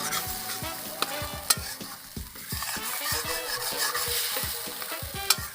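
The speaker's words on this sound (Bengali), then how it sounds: "এবার ভালো করে মশলাটা কষিয়ে নেব।" Spices with tomato and a little water being stirred and fried in a pan for sago khichuri, with a spoon scraping and knocking repeatedly against the pan over a soft steady sizzle, close and fairly quiet.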